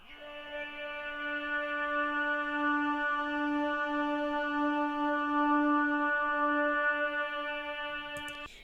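An unprocessed vocal sample from an ambient sample pack holds a single steady, drone-like tone for about eight seconds at an even, moderate level before cutting off.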